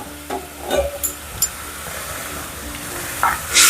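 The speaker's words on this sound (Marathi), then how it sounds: "3 वाट्या मी दूध टाकून घेते" Milk poured into bhagar shira cooking in a pan and stirred, giving soft sizzling and hissing with a few spoon scrapes and splashy bursts, ending in a louder hiss.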